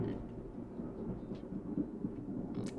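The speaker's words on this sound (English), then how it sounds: "That's thunder." Low, distant thunder rumbles continuously during a stormy spell, a faint rolling roar with a light crackle near the end.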